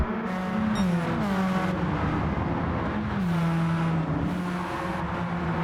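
GTO Champions series Radical race cars at Tsukuba scream down the front straightaway, engines whining and shifting pitch as they climb through gears, loud and steady, with a car pulling past.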